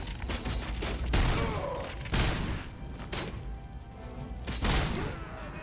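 Heavy gunfire in RoboCop: Rogue City, a series of loud, punchy shots and booming impacts spaced about a second apart, close and forceful over a rumbling background.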